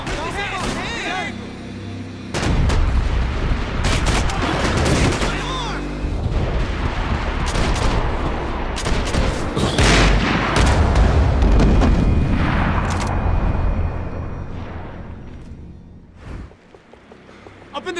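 Gunfire in a Max Payne 3 shootout: repeated loud, sharp shots and booming blasts in bursts, with game music and sound effects under them and voices calling out between volleys.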